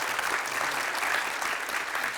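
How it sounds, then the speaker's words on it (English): Audience applause at a college president's opening session, a steady dense wash of clapping that holds evenly throughout. "can I ask for one more round of applause for Dr. Garcia?"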